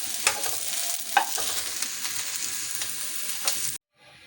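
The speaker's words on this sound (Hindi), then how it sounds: "इसी तरह से और सब्ज़ी भी फ्राई कर लेंगे।" Vegetables fry in oil in a wok, giving a steady crackling sizzle with occasional sharp clinks and scrapes of stirring, and the sound cuts off abruptly near the end.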